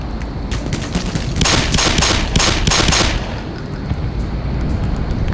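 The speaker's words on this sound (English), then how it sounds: "We got plenty of Glock ammo, might as well use it." A Glock pistol fired in the video game Black Mesa, a quick run of sharp, loud shots in the middle, set over a steady background rumble.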